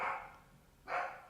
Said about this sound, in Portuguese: Esse é meu cachorro dando uma participação especial.